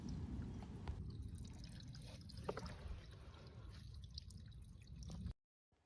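Water from a dug-out natural spring at an off-grid cabin trickles and drips steadily, a soft, close, continuous flow heard alone before cutting off abruptly.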